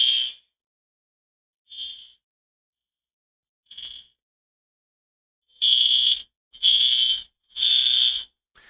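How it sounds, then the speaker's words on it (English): An indoor fire alarm sounds in shrill high-pitched electronic bursts, at first single beeps spaced by silence, then three longer loud blasts in quick succession. "I have a fire alarm going here, so I'm just going to grab the fire extinguisher."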